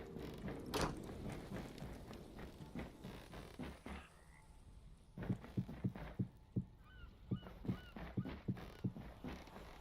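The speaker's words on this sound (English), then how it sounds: "that's what the noises of the seagulls are making me think of" Seagull cries from the Hytale video game, faint high calls scattered over a steady mechanical in-game background, with a run of clattering knocks in the second half.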